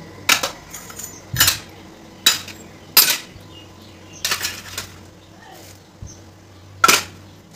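Brass and metal puja utensils being gathered and handled, with a series of separate sharp clinks and clatters, close and fairly loud, spaced irregularly over a quiet room hum.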